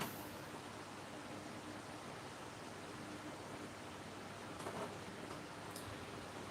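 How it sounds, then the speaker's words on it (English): Steady, dense hiss of heavy rain pouring down without letup, with a couple of faint knocks near the end and no voices. "it is pouring down rain"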